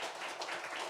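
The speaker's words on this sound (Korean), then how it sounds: "우리 하나님께 영광의 박수 올려드리겠습니다." A church congregation applauds during a Sunday worship service, producing a brief, soft, steady wash of many hands clapping together.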